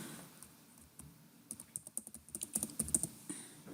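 Fingers tap a computer keyboard in quick, uneven bursts of faint, close clicks, with a few isolated keystrokes first and then a denser flurry of typing in a quiet room.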